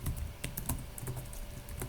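Rapid typing on a computer keyboard, quick irregular clicks and taps close by with no talking.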